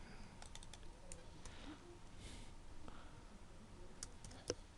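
Soft, sparse clicks of fingers typing on a computer keyboard, close but quiet, with irregular keystrokes and a slightly louder tap near the end.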